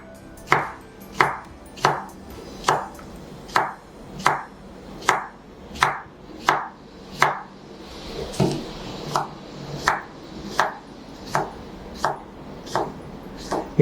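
A knife chops an English cucumber, skin on, into small pieces on a board: about eighteen crisp, evenly spaced strokes, close and loud, with no talk.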